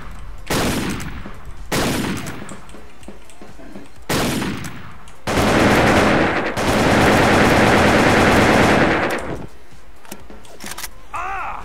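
AK-47 fire in a shooting video game: several short bursts of automatic gunfire, then a long sustained volley, loud and close, with brief gaps between.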